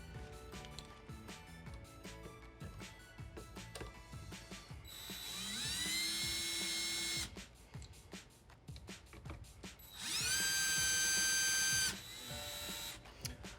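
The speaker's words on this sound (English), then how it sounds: "I'm going to use a flathead drill bit and my screw gun here" A power screw gun with a flathead bit whirs in two sustained bursts while installing a Delta R2707 Roman tub deck-mount rough valve, its pitch climbing as it drives screws, between clicks and handling clatter nearby.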